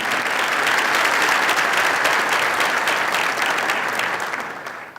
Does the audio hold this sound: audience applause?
yes